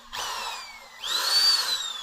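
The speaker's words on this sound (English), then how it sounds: "Might drill a second hole." Power drill boring a hole in a van, two short bursts of high whining motor, the second louder and rising, close and alone.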